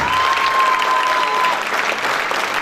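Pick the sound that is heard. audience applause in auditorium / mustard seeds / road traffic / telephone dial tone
audience applause in auditorium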